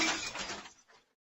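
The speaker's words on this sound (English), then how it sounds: "Ouch! The glass pane shattered." A cricket ball dropped onto a thin glass pane shatters it with a loud crash, followed by a brief tinkling of falling shards that fades to silence.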